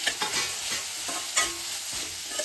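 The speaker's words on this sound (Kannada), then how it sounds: "ಇದಾದಮೇಲೆ ಈರುಳ್ಳಿ ಮತ್ತು ದಪ್ಪ ಮೆಣಸಿನ್ಕಾಯಿ, ಕ್ಯಾಪ್ಸಿಕಮ್ ಇಷ್ಟನ್ನು ಹಾಕೋತಿದ್ದೀನಿ" Onion and capsicum frying in a pan for white sauce pasta, a loud continuous sizzle broken by repeated scraping stirs of a spatula, close up and with no talking.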